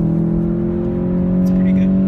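A 2015 Volkswagen Golf GTI engine droning steadily from inside the cabin under kickdown, with the tone rising slightly as it accelerates, while someone talks over it.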